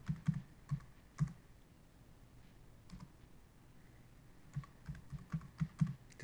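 A password is typed on a computer keyboard, quiet close keystrokes in two short bursts separated by a pause, with no talk.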